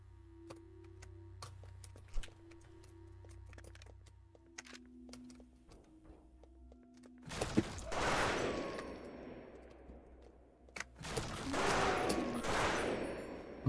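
Gunfire in the video game Deformed, aimed at cameras: two loud bursts of shots in the second half, each trailing off with echo, following quiet game ambience with faint clicks and tones.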